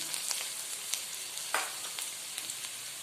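Onions and fenugreek seeds sizzle in hot oil in a kadai for sardine curry, a soft continuous frying hiss broken by a few light spatter crackles and stirring scrapes.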